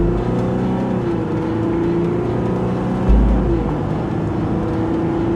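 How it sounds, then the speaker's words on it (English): Ram 1500 EcoDiesel pickup with a 3.0-liter diesel accelerating hard from 0 to 60 mph in a drag race, a loud, steady, close engine drone with a rising tone and a brief thump partway through. "bring up the boost and bring up the RPMs to see if I can get just a little bit more power"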